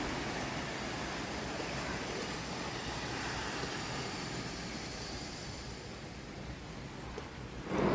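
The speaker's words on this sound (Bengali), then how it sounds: "বৃষ্টিটাও এমন একবার থামছে একবার পড়ছে ফিরে" Rain falls outside an open kitchen window as a steady, even hiss of moderate loudness, continuing unbroken for the whole stretch before a brief louder bump at the very end.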